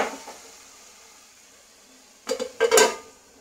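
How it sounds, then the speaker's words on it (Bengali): A lid goes onto a pan of simmering fish curry, giving a couple of close metallic clanks and a rattle after a quiet stretch of low kitchen background, with no talking. "এরপর একটা চাপা দিয়ে দেব।"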